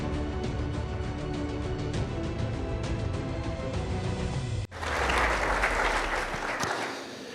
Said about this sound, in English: I assume that applause is for my wife and not for me